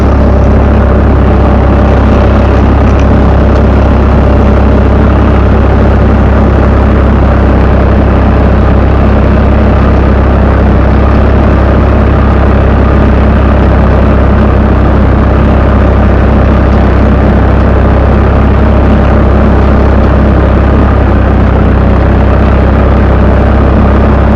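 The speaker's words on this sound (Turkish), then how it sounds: "seri birinci viteste 1400 devirde yani 14 gaz diye bilinen devirde e, ilaçlamayı yapıyorum arkadaşlar" A Same tractor engine runs steadily at 1400 rpm in first gear while pulling a Parlayan 2000-litre sprayer through an olive orchard. It is a loud, continuous, low diesel drone with no breaks and no voices.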